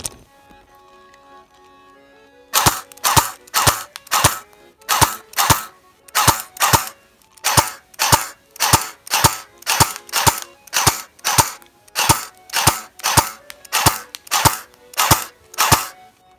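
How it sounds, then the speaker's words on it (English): A CYMA AK-47 airsoft gun running on a low battery fires short bursts at targets, about twenty closely spaced sharp cracks in a steady repeating rhythm after a quiet opening, loud and near with no talking. "I'm gonna just kind of burst fire on each target"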